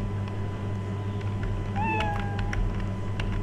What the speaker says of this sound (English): Adopt cat. Meow.